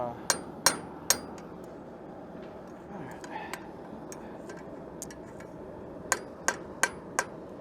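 Sharp metallic rounding hammer strikes ring out in two bursts, three quick blows at the start and four evenly spaced near the end, over quiet room noise, while forging tongs.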